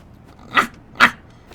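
A wolf character barks twice in a wolf-and-deer co-op video game, two sharp, close bursts about half a second apart over a quiet background.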